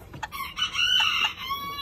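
A hen gives a few short clucks followed by a drawn-out, wavering call, close by with faint farmyard background and no talking.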